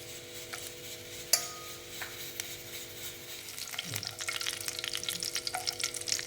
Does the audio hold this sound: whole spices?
yes